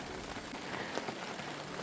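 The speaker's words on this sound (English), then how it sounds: "Yeah, it started raining again." Rain falls steadily across an off-grid food garden planted with perennial green onions and chives, a soft continuous hiss of drops with no clear pauses.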